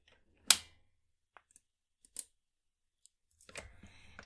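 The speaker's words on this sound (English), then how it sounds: "often you can kind of hear it actually cutting through the paper" A We R Makers ButtonPress lever comes down and punches through paper, a sharp crunchy snip followed by a few small clicks, another crisp cut and a rattling scrape near the end, close and quiet.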